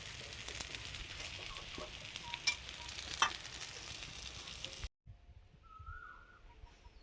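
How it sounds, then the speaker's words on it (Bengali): Red spinach and egg fritters fry in a wok with a dense, close hissing sizzle and occasional crackles for about five seconds, then the sound drops away to faint background noise. "এগুলো ভাজা করা হয়ে এসছে এই যে কয়েকটা ভাজা হয়ে গেছে আর কড়াইতে কয়েকটা হচ্ছে"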